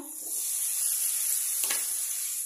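Onion drops into a hot pan with spices, giving a strong, continuous hiss of sizzling oil, close and steady, with no speech.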